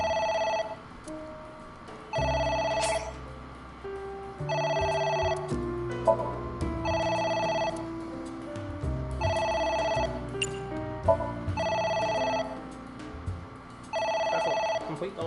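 In the video game AI The Somnium Files, a telephone rings in a steady series of about seven bursts, each about a second long. People talk between and under the rings.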